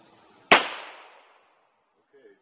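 A single sharp .22 rifle shot cracks out at target practice, close and loud, then decays quickly into quiet, followed by a faint brief sound.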